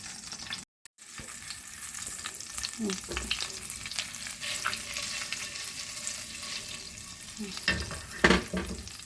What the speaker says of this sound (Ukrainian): На чисту сковороду розтоплюю масло і зараз додавлю часничок.